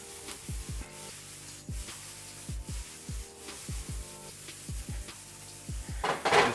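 Mushrooms being tossed in a pan on the stove: a string of close, regular soft thumps and scrapes as the pan is jerked again and again, with a louder rattle at the end.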